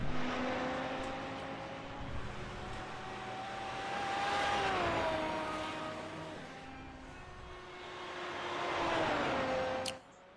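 GT3 and GT1 race cars, an Aston Martin leading the pack, roar around the Mount Panorama circuit in a racing game, engine notes rising and falling as cars sweep past and fade, with no talking over it.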